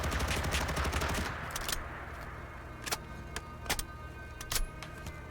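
AUG rifle fired from the hip in Fallout 4 with an MW2022 weapon mod: a rapid burst of shots for about a second, then a few sharp metallic clicks and clacks of handling, no talk.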